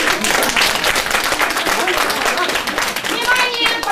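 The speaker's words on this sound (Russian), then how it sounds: "Аплодисменты!" Audience claps loudly and steadily at a children's mock-trial performance, dense continuous applause with children's voices mixed in.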